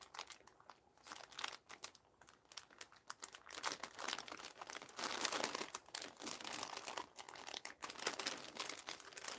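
A stapled and taped-over mail bag being pulled open, with repeated loud crinkling, crunching and tearing of plastic in irregular bursts close by, no voices.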